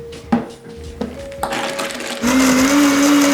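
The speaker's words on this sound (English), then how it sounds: "then we're good to blend" Blender crushing ice and watermelon into a slush drink, starting with short bursts and then running continuously at full loud speed, its motor whine steady and close.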